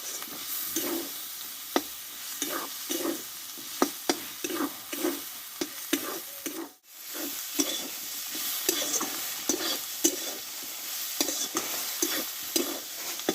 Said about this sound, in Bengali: এই কাঁচা ডিম দুটো কিন্তু মশলার সঙ্গে আমি ভালোভাবে আমি কষিয়ে নেব